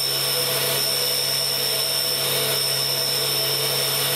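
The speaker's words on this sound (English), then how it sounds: "small grinder like this is very handy for the little job." Small bench grinder running steadily while grinding an extra fine pitch tap, a constant high whine and hum holding even throughout with no talking.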